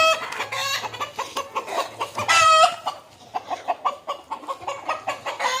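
A native country chicken clucks repeatedly in short, rhythmic bursts from inside a coop, fairly close, with a longer squawking call partway through.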